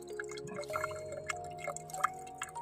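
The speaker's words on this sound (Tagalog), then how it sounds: "Mahina ang dating ng tubig." Weak trickle of tap water with a low flow, faint dripping and splashing close by, mixed with a steady background hum and no speech.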